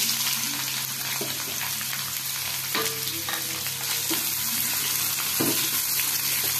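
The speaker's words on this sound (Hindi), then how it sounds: "एबे एथे काटी रखिथिबा प्याज को देई भाजी नबा" Chopped onions fry in a pan for a besan and potato curry, giving a steady, close sizzle with a few soft stirring knocks and scrapes. No one speaks.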